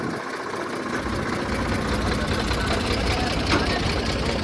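A tractor engine runs loud and close with a rough, knocking drone that holds steady throughout, and a voice may be faintly present beneath it.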